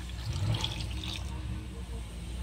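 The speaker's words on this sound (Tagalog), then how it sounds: "Inihan natin ng tubig." Tap water pours steadily into a cooking pot of peeled cassava, a close, continuous splashing rush for a couple of seconds with no talking.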